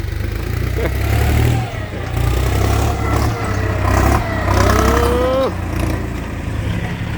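A heavy truck's six-cylinder engine rumbles loudly and revs up and down in waves at a land-filling site, with voices calling out over the noise.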